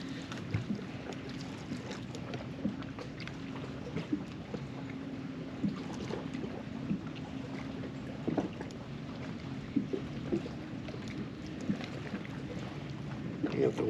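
Wind buffets a small fishing boat on Lake Guntersville during summer crappie fishing, a steady low rush with occasional gusty bumps and faint water movement throughout.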